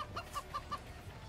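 A chicken in the video game Moving Out gives a quick run of short clucks, about four or five evenly spaced, close and fairly clear over faint background noise.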